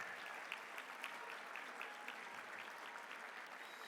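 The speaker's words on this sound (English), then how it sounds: "Please give our rapid response teams a hand of applause." Applause from a gala audience honoring rapid response teams, a soft, steady patter of many hands clapping at a distance throughout, fairly faint and even, with no talk over it.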